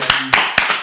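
An audience at a show about the Democratic Republic of the Congo at the 2023 Africa Cup of Nations claps, four sharp, evenly spaced hand claps close by.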